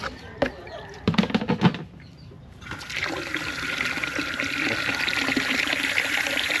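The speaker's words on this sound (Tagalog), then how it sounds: "magdilig na naman ako ng aking halaman" Water is poured out to water potted plants. A few close knocks and splashes come first, then a brief lull, then a steady, fairly loud rushing pour and trickle that continues to the end.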